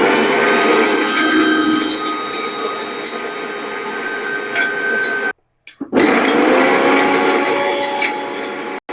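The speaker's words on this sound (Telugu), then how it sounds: "కొద్దిగా ధనియాలు, కొంచెం 1 ఇంచ దాల్చిన చెక్క, 3 లవంగాలు, కొద్దిగా కొబ్బరి, ఎండు కొబ్బరి అన్నీ మిక్సీలో వేసుకొని" A mixer grinder grinds coriander seeds, a small piece of cinnamon, three cloves and dry coconut into masala. It gives a loud, steady whirring roar that stops briefly about halfway through, then starts up again.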